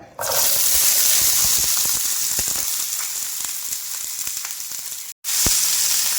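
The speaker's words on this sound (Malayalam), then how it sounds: "ഇനി നമുക്ക് ഉള്ളിയൊക്കെ ഒന്ന് വാട്ടി വരാം" Onions sautéing in oil in a pan for a Kerala mackerel and shallot pickle, a loud continuous sizzle close up with a short cut before it returns.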